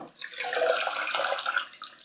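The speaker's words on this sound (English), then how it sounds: "You can hear liquid" Liquid nutrient solution sloshing inside a perforated plastic pot holding an Aloe vera plant as it is lifted, a continuous watery swish lasting about two seconds with no talking.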